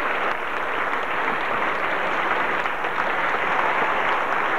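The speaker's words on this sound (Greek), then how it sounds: "Το κοινό χειροκροτά με ενθουσιασμό τους δύο γερμανούς καλλιτέχνες" An audience at a live 1982 broadcast from Thessaloniki applauds enthusiastically for two German performers, with dense, steady clapping throughout and no pause.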